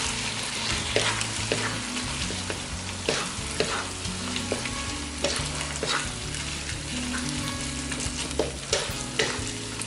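Shrimp stir-fried in a pan for a red curry with pineapple, sizzling steadily up close while a utensil scrapes and taps the pan in a brisk, irregular rhythm, with no talking.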